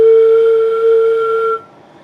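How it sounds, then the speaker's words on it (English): Flute head joint blown with its end stopped by hand, giving one steady pure whistling tone held about one and a half seconds, loud and alone, then cut off. "we're going to learn how to make a noise just on this, on the head joint"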